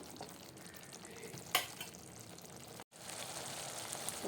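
Sauce bubbling and sizzling steadily in a pan, boiling until the oil separates, a soft continuous hiss with a brief clink partway through and a momentary cut.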